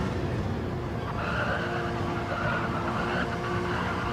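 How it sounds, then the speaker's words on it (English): A race car engine screams at full throttle through corners in the GT Champions racing video game, a continuous loud roar with shifting pitch and tyre squeal, no talking. "he is driving that car with the throttle big time through these corners"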